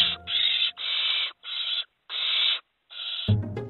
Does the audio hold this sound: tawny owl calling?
yes